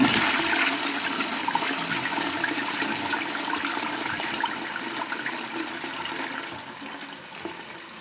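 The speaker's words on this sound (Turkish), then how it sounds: "Şimdi bir suyunu vereceğim." A toilet flushing after being cleaned to remove yellowed stains, with a loud, steady rush of water that fills the whole stretch and eases off slightly toward the end, with no voices.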